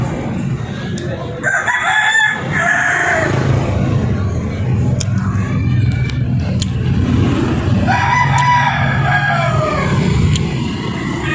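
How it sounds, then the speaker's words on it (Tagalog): Roosters crow loudly in long drawn-out calls, one after another, with hens clucking and a steady low rumble of traffic underneath. "Gising na yung mga manok."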